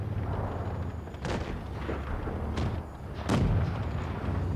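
Tank gun shots in a tank video game come as three sharp booms over a steady engine rumble, one early, one mid-way and a louder one near the end.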